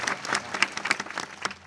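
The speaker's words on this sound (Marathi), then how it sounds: "म्हणून जोरदार टाळ्या त्यांच्यासाठी वाजवा" A live audience at a Marathi kirtan claps for the storyteller, with steady, fairly dense applause of many hands that stays even throughout, at moderate distance with no voices over it.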